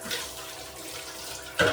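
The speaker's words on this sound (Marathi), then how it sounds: "आता टाकीतला पाणी चालू करते" Water runs steadily from the tap of a household storage tank, a constant close rushing hiss with a brief louder splash or knock right at the end.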